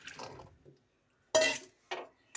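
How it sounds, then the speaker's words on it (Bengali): Cucumbers and then potatoes dropped into a wok for a simple hand-mixed dish, giving a few separate clattering bursts of pan contact, close and fairly quiet, with no talking. "আমি কড়াইতে প্রথমে শশাগুলো দিয়ে দিলাম তার মধ্যে আলুগুলো দিয়ে দিলাম"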